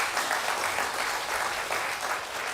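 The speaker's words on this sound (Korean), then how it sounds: "우리 박수로 환영하시겠습니다." A church congregation applauds in welcome during a Sunday worship service, steady moderate clapping from many hands heard on its own without speech.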